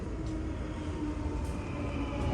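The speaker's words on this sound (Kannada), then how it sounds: "ಮೆಟ್ರೋ ಬಂದಿದೆ." A Dubai Metro train pulls into the platform with a steady low rumble and rolling rail noise, alone, without talk.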